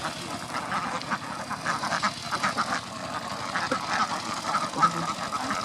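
Many Jhinuk-breed ducks quacking together in a busy, overlapping chorus inside a duck house, fairly close, with a steady low background hum and no talking.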